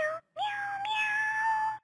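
A FurReal Friends electronic toy cat gives a short meow, then a longer, steady synthetic meow, loud and close, with a faint hum underneath.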